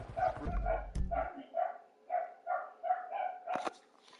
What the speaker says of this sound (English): Oh my god, my dog's going crazy.